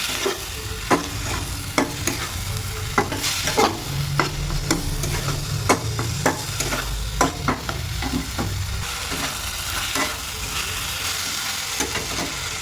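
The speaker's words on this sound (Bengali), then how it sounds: "দিয়ে দেবো মশলাগুলো, আদা রসুন পেস্ট, খুব ভালোভাবে কষিয়ে নেব।" Spices and ginger garlic paste frying in a pan for chicken samosa filling, a steady sizzle broken by repeated sharp scrapes of stirring, close and alone without talk.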